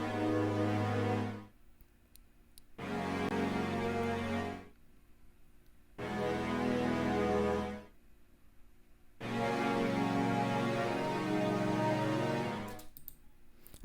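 Cinematic string parts layered over an ambient piano, produced in FL Studio Mobile, swell in four loud sustained phrases separated by short near-silent gaps, with no talking.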